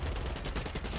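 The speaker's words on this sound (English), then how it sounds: "Oh, Danny got shot" Rapid gunfire in Far Cry 6, a dense burst of repeated shots rattling steadily through the full second at close range with no talk over it.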